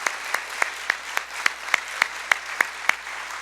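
Rhythmic clapping at a religious conference talk, about a dozen sharp, evenly spaced claps in a steady beat, fairly close and clear, with no talking over them.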